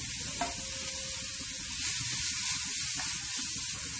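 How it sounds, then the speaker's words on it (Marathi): Fenugreek greens frying in a little oil in a pan, giving a continuous, even sizzle and hiss with occasional soft stirring scrapes. "आणि भाजी पण थोडीशी फ्राय करून घेऊ. दोन मिनिटं फ्राय करून घ्यायचं फक्त"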